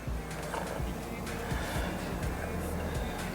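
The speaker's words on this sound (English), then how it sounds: "First time driving the C8. Wait till you hear how it sounds." A Chevrolet C8 Corvette with a Vengeance Racing twin-turbo setup driving on the road, its engine a steady low rumble heard from inside with faint clicks and road noise, moderately quiet throughout.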